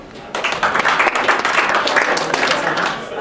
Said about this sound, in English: let's go ahead and give a round of applause for Wade